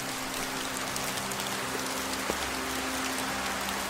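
Steady rainfall patters evenly on a surface, a dense continuous hiss of drops with a faint low hum beneath and no voices.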